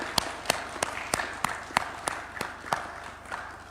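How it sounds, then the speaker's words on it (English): Sparse hand claps ring out at an official ceremony as signed copies of an agreement are exchanged, about a dozen sharp, evenly spaced claps in a quiet indoor room. "You can give them a round of applause."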